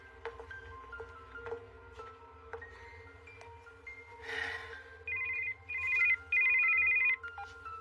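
A telephone rings nearby with repeated electronic tones in three short bursts, following quieter background sounds and soft music.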